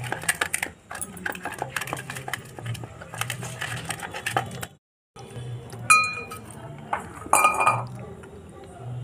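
Peanuts are mixed into gram flour batter in a bowl, with clinks and scraping of a spoon or hand against the bowl in uneven bursts, close, alongside someone speaking.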